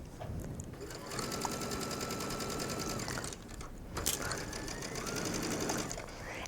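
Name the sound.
sewing machine stitching mesh fabric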